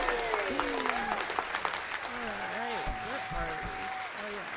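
Applause from an open mic audience following a song, steady clapping running under a speaking voice with a sustained tone layered on top.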